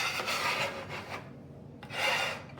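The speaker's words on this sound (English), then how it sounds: "before we start the next pancakes, we're gonna scrape this grill." A metal spatula scrapes across a hot griddle grill between batches of pancakes, giving two stretches of harsh, close rasping separated by a quieter pause.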